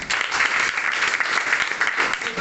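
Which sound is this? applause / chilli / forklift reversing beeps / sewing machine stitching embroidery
applause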